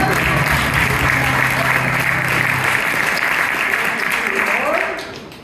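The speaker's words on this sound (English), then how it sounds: "give him a round of applause." Loud, dense round of applause from an audience at an improv comedy show, many hands clapping steadily under a low hum before tapering off at the end.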